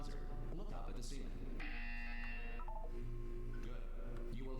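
A flat electronic buzzer tone from a Portal 2 test chamber sounds for about a second, sustained and steady, set against a continuous background hum and low synthetic drones.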